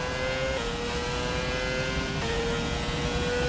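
Engine of a Formula 1 car in the F1 2017 video game on the Baku circuit, a steady loud whine whose pitch holds, drops at gear shifts, then climbs again, with no talk.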